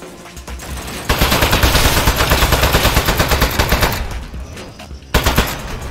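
An Aperture Desk Job turret fires a loud, rapid, continuous stream of gunshots that pauses briefly and then starts up again.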